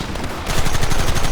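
Rapid loud gunfire in the Western video game Red Dead Redemption, a dense burst of overlapping shots after a brief lead-in, close and sustained.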